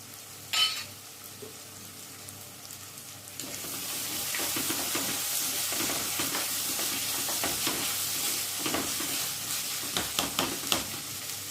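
Green chillies, crushed garlic and biryani masala sautéing in a pan for Kerala chicken chakka biryani, a continuous close sizzle that swells after a few seconds, broken by occasional stirring clicks, with no talk.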